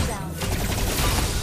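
Rapid bursts of gunfire from the hero Clint's weapon in a mobile battle game, dense and loud across the short moment, with game effects and a voice partly mixed in.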